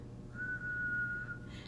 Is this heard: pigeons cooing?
no